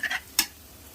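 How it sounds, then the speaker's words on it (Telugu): Chili powder being stirred into a bitter gourd (aakakarakaya) curry in a pan: a few quick scraping clicks of the spoon at the start, then one sharp tap against the pan, close and fairly faint. "కారం 2 వేసుకొని కలుపుకోవాలి"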